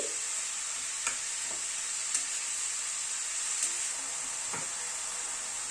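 Shredded cabbage fries in a pan with a steady, bright sizzle. Occasional light clicks and scrapes come as it is stirred and mixed, and the frying stays constant throughout.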